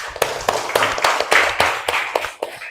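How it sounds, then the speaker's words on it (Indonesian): Scattered classroom clapping from third-grade primary school pupils applauding a classmate, a series of sharp, uneven claps and taps spread over a few seconds, close and moderately loud, with faint voices in the background. "Tepuk tangan buat Ken."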